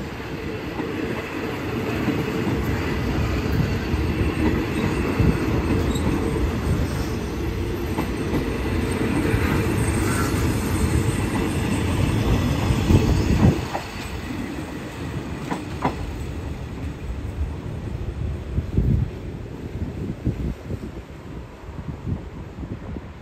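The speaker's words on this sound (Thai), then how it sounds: "ชานชาลาทางที่4ขบวนรถชานเมืองขบวนที่304ต้นทางจากสถานีกรุ" Commuter train 304 from Hua Lamphong rolls along platform 4 at Bang Sue Junction station in Thailand. A loud, steady rumble with wheel clatter and some wind buffeting on the microphone eases slightly partway through.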